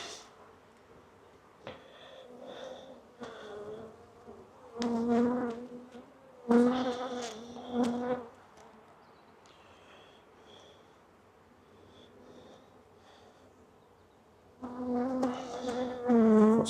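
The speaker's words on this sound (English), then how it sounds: "Lots of bees doing the waggle dance in there." Honey bees buzz in an open beehive, swelling and fading in uneven bursts of close, loud droning with quieter stretches between, and no talk.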